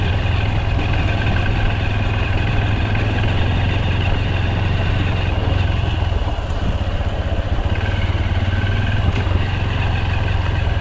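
Motorcycle engine idling, a loud, steady low rumble that holds an even rhythm throughout, close up, with no talk.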